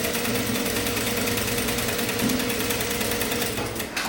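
A sewing machine runs at steady speed stitching fabric for a sleeveless top, a close continuous rapid mechanical whirring and clatter that slows slightly at the end.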